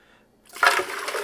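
Ice water poured for an oat milk batch, a short splashing gush starting after a brief quiet moment, fairly faint and close.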